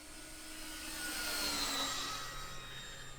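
Dynam P-47D Thunderbolt RC warbird with a 650 kV electric motor at about half throttle, a steady whining drone with faint tonal lines that swells slightly mid-pass and holds, heard from a moderate distance with no talk.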